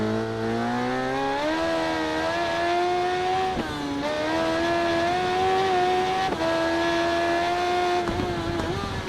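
Suzuki motorcycle engine screaming through a road race in RIDE 3, a loud, continuous high-revving whine that climbs steadily through each gear, with brief dips at shifts around three or four points.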